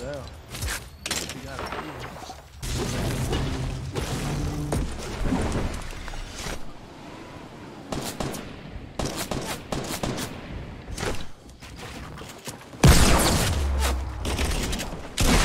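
Double SMG fire in a battle royale game, rapid bursts that come and go throughout, with a louder close burst near the end and players talking over the shooting.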